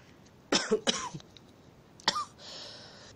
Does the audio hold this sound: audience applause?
no